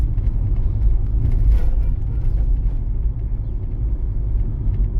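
A car cruises in third gear at about 40 km/h and around 1600 rpm along a driving-test route in Sharhorod, heard from inside the cabin as a steady, loud low engine and road rumble.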